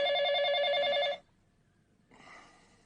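A telephone rings loudly in a home late at night with a steady electronic warble that cuts off after about a second. A brief quiet follows, then faint room noise.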